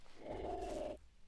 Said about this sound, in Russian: А, это собака так такой звук издает.